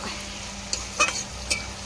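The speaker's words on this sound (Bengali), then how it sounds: "এদিকে এখন হচ্ছে বিনস ভাজা" Beans frying in a pan over a wood-fired clay stove, a constant low hiss punctuated by a few light clinks and scrapes from stirring.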